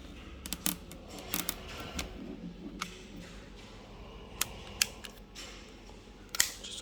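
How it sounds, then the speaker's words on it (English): Sharp, faint clicks come one at a time at irregular intervals as a magnet strip is pushed and snapped into place on a single open door during assembly. "So basically just click in."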